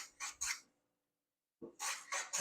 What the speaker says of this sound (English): Keep chamfering it down.